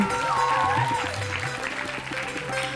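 An audience applauds in a school hall after a middle school play, a steady dense clapping that holds for several seconds while a person talks over it and a few voices rise within the crowd.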